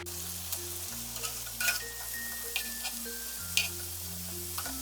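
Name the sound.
tandoori chicken sizzling in a pan as it is turned over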